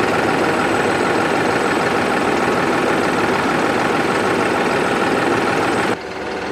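A Deutz Fahr 5080 D Keyline tractor engine idles steadily and loudly with a low, constant rumble for several seconds, then drops slightly quieter near the end.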